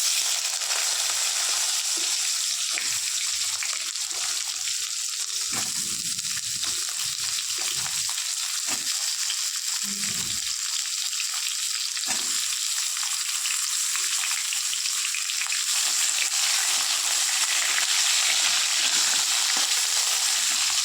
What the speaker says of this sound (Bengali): দিয়ে পটল আর আলুটা কেটে রেখেছি ওটা এবার ভেজে নেব।